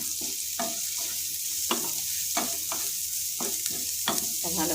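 Finely chopped onions are stirred in a frying pan over a low gas flame for chicken momo filling: a soft constant sizzle broken by about a dozen rhythmic scraping strokes of the spoon, with no talking.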